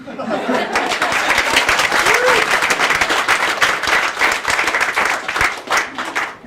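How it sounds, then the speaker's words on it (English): Comedy club crowd at Gotham Comedy Club giving a comedian more applause, a full, steady wash of clapping with some chuckles and chatter mixed in, continuous from start to finish. "I think I deserve a bit more applause."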